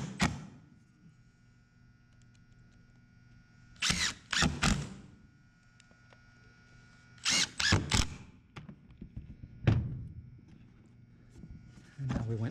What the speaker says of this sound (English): when you're driving the screws, usually you're going to use the 1 inch or the 1 1/4 inch screws to attach your masonite to your